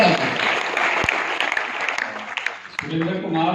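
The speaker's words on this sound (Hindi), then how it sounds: "जोरदार ताली।" Loud applause from an audience at a seminar in Jind, a dense steady clatter of many hands clapping close by, with a voice faintly audible underneath toward the end.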